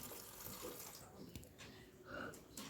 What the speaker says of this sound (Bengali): অল্প একটু বাসন ছিল চায়ের, সেইটুকু ধুয়ে নিলাম